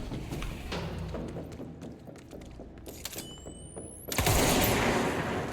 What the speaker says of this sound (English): He's also shooting.